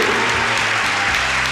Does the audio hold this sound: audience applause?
yes